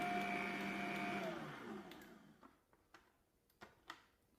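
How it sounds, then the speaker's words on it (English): Stand mixer whirring through banana pudding cake batter, a steady motor hum that winds down and stops, followed by a few quiet taps and knocks. "We'll let it go for a few more seconds, and then we're going to go ahead and turn it off."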